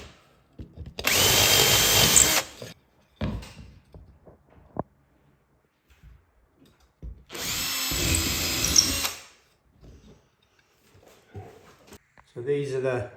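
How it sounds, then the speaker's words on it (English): A power drill bores holes into a ceiling frame for a light fitting, in two loud sustained bursts of about two and three seconds, separated by quieter knocks, handling noise and some talk. "So I'm going to drill some holes now."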